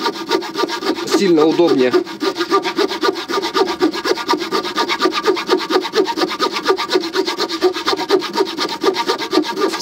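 A Victorinox RangerGrip 130mm folding saw cuts through wood in steady, rhythmic back-and-forth strokes, close and loud throughout, with a brief spoken phrase near the start.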